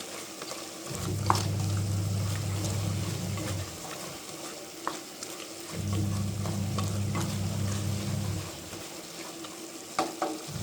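Stirring in a pan with kabsa masala added, a steady sizzle of frying under two long bursts of low scraping stir strokes, with occasional light clicks of the spoon in between; no talking.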